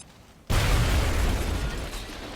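A grenade detonates in XCOM Enemy Within, a sudden loud blast after a brief quiet lead-in, followed by a sustained rumbling, crackling roar that slowly eases off.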